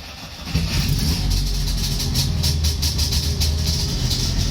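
A Trabant's small two-stroke engine runs after an ignition repair, a steady buzzing rattle with hissy, fluttering upper tones, close and continuous without speech.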